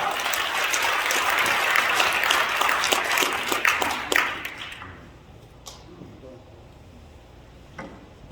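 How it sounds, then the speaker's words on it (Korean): An audience at a civic group rally breaks into loud sustained applause for an introduced speaker, dense clapping that fades out after about five seconds, leaving a quiet room with a few faint knocks. "큰 박수 부탁합니다"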